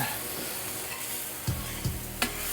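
White wine hits a hot pan for deglazing, raising a dense, steady hiss of sizzling, broken by a few distinct knocks and scrapes of a spoon against the pan.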